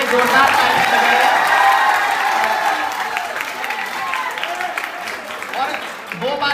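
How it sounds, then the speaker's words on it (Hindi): Loud applause from a comedy show audience, steady and dense throughout with a crowd murmur underneath, dipping slightly near the end. "तो अगर बात आप तक पहुंच गई हो तो एक बार दोनों हाथ खोल के जोरदार ताली बजाएं।"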